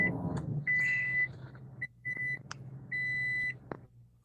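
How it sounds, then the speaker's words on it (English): A series of electronic car beeps, some short and some held, sounds at an irregular pace, fairly faint and clean with no talking. "I hear the beeping of the car."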